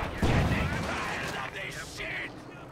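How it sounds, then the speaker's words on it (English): Mortar rounds fire and land in a war strategy video game battle, a heavy booming blast followed by rumbling impacts, mixed with other battle effects under a commentator's voice. "As the mortar makes quick work."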